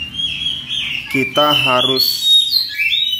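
A kacer (magpie-robin) given to somersaulting gives bright, high chirps and whistled phrases, sounding before and after someone speaks briefly close by.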